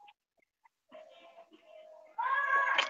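A cat meows indoors during a casual home chat, first faintly and then in a louder, closer, drawn-out cry toward the end, with soft background sounds between.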